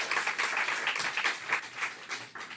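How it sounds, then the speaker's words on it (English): Applause from a conference audience at an international arts-in-society event, a steady broadband patter of many hands clapping, moderately loud and continuous, with no voices over it. "could we give her one more round of applause?"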